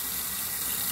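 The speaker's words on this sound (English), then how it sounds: "then fill the cup up with water" A cup is filled with water from a tap, a steady, close rush of running water that holds evenly throughout with no break, heard on its own.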